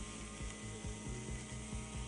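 A Husqvarna petrol string trimmer runs continuously up close, a steady buzzing engine whine with a faint rhythmic pulsing, loud and alone with no voices.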